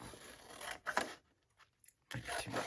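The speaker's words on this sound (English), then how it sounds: "My scissors, cut it down a little bit." Scissors cut paper for a journal craft project in short close snips, one burst at the start, faint clicks in the middle, and a longer cut at the end.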